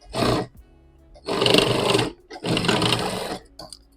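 A sewing machine stitches a zip onto fabric in two sustained, loud bursts after a short opening run, with quiet pauses between them.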